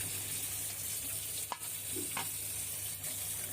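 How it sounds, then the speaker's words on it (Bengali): Koi fish frying in a pan of hot oil, a constant soft sizzle with a couple of brief clicks and scrapes from turning the fish, heard quietly and steadily without speech. "কই মাছ ভাজতেছি, এই মাছটা ভুনা করবো।"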